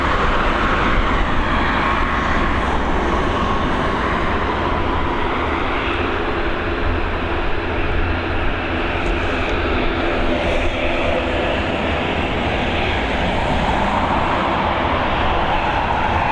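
An Airbus A320 jet airliner departs Dublin Airport on runway 28L in the evening, its engines roaring loud and continuous, a sustained broadband rumble that swells slightly and holds without talk.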